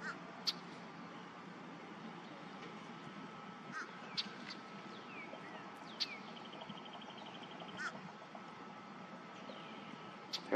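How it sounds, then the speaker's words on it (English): A crow caws in the background outdoors, with a few sharp, moderately distant calls spaced across a quiet scene. The calls stand out over a faint, steady hiss. "There's a crow calling in the background."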